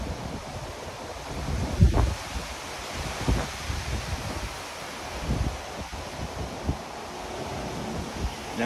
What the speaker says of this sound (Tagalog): Parang sama ng hangin